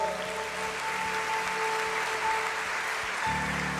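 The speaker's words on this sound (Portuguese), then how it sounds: "Vamos dar um aplauso ao Senhor." A church congregation applauds the Lord during a service, a steady wash of clapping heard from a distance alongside sustained musical tones, with no speech.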